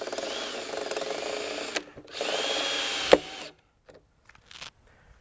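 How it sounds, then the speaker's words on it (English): A power drill drives self-tapping screws into a vinyl gate post outdoors, whirring in two close bursts with a sharp clack between them, then stopping, followed by a few faint knocks. "You're going to put in a couple of these self-tapping screws in on the side and also the front."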